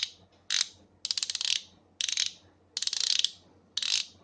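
A Taparia ratchet with coarse teeth clicking in six short, crisp bursts separated by brief pauses, close and clear with no talking.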